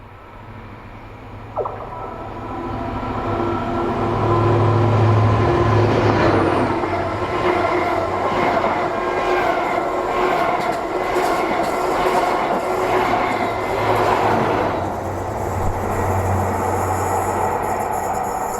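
A GWR Flying Banana diesel railcar passes through Sydney Gardens in Bath, a steady rumble and rolling wheel noise building and holding for the whole stretch, with tonal engine hum and brief rail squeal, fairly close and loud.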